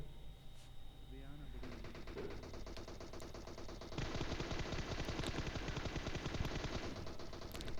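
Automatic gunfire from a battle in the mobile game PUBG Mobile, with dense rapid bursts continuing throughout and growing louder and heavier partway through, under a faint voice.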